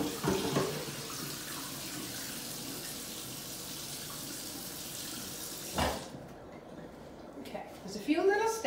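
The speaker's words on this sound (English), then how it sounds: "first I have to wash my pan because I need the same saute pan that I had my sauce in" Running water from a kitchen sink tap pours steadily over a saute pan being washed, with a brief clatter near the end as the pan shifts.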